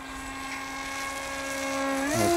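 A small RC pusher-prop jet, an AXN Floater Jet, flying with its electric motor and prop giving a steady, buzzy high whine that swells louder and climbs in pitch near the end.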